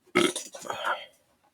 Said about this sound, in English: Why'd you burp after that?